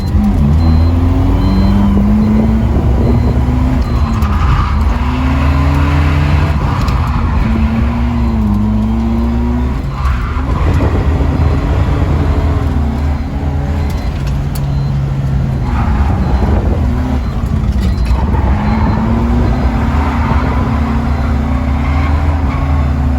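A BMW 320d diesel drifts at a summer drift event, its engine revving loudly and rising and falling in repeated sweeps close by, with tire noise and no talking.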